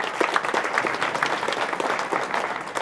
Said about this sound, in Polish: państwa również poproszę o brawa